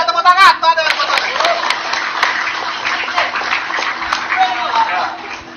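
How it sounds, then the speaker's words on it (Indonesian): Audience at a Palembang performance event clapping in a steady broadband patter for several seconds, with voices talking over it and a stronger burst near the start. "Tuh ada tepuk tangan."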